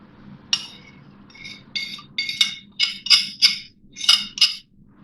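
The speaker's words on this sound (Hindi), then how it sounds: "ये 5 अंडे मैंने इसमें तोड़ लिए हैं। अब मैं इसको इस तरह बीट करूँगी" Eggs being beaten in a bowl with a utensil, giving a series of clinking taps in short uneven bursts, fairly close and moderately loud over a low background hum, with no voices.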